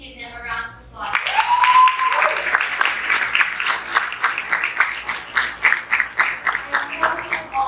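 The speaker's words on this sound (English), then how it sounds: "Please give them a round of applause." Audience applause fills a school graduation hall at a valedictory ceremony, a steady wash of many hands clapping after a brief quiet opening, with a few cheers or whistles rising over it and sustained to the end.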